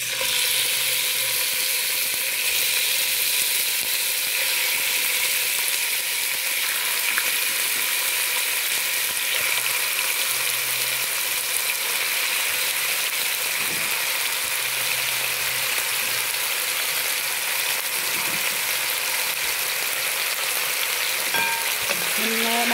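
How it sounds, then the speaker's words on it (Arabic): Meat sears in very hot oil in a pot, producing a dense, steady sizzle and crackle that continues unbroken at close range, with a few faint clinks in the background. "ونحط فيها اللحم نديها صدمة كده الأول."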